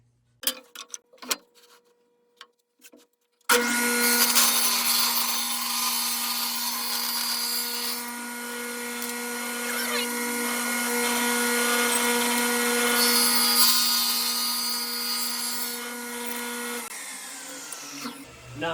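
A power saw cuts along a wooden guitar neck in a workshop. After a few sharp knocks, a loud steady whine runs for about thirteen seconds before it winds down.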